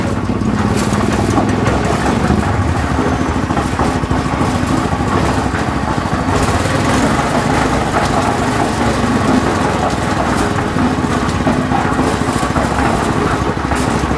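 A gasoline engine runs steadily at close range, producing a loud, constant rumbling drone with no pauses for the whole stretch.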